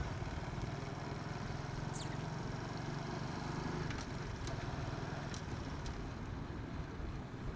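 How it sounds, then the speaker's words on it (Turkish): A scooter engine idles in neutral while riding, a faint, steady, low putter under constant road and wind noise, with a few brief clicks. "Motor hiç çalışmıyor gibi rölantide. Tın tın gidiyor bak."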